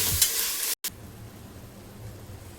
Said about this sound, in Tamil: தக்காளி சேர்த்துட்டு நல்லா வதக்கிடலாம்.